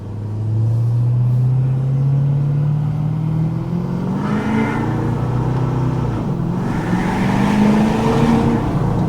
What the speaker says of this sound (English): Downshifting like a damn jet.